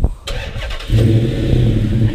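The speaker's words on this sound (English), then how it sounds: "there you guys see the car actually turned on" A Dodge Charger SRT8 engine cranks via remote start and catches, then settles into a steady idle rumble, loud and close.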